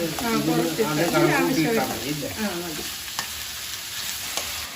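Mutton for biryani sizzling and frying in a pan while it is stirred, with a steady crackle under a person talking in the first half, then continuing alone with occasional utensil scrapes.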